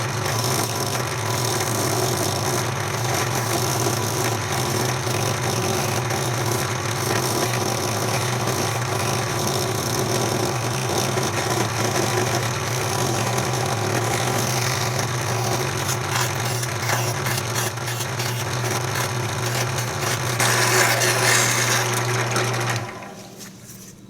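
A power tool grinds off metal corners in steady passes, a continuous high whine with buzzing texture lasting over twenty seconds, then cutting out abruptly at the end.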